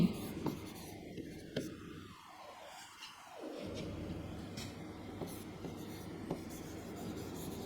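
Handwriting on paper produces soft, close scratching and rubbing strokes in short irregular bursts, faint against a low background hiss, with no talking.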